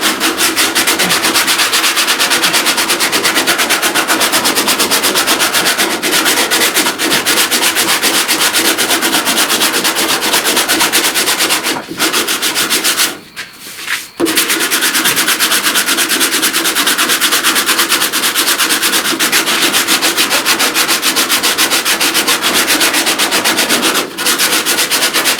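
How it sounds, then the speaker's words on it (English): Block sanding body filler on a pickup cab corner dent repair, hand strokes crisscrossing in a steady continuous rasping rub, loud and close, with only a brief pause midway. "When you're block sanding, do the crisscross wherever you're sanding it up as much as you can."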